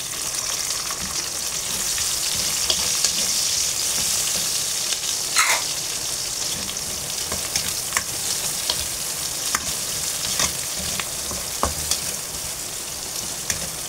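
Onions for dinuguan sauté in a hot pan with a loud, continuous sizzle and crackle, punctuated by occasional light taps and scrapes of stirring.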